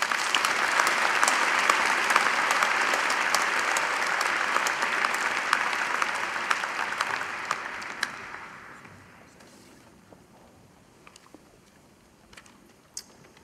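A graduation-day crowd applauds engineering graduates in dense, sustained clapping that fills the space for about eight seconds, then fades to a few scattered claps and quiet room noise.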